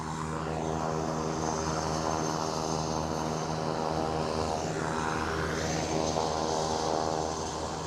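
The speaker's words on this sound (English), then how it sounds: "I didn't think I was going to compete with the noise of that plane." Propeller aircraft at Aberdeen airport, a loud sustained droning engine roar with a steady pitch that shifts partway through as the plane passes, close and alone without talking.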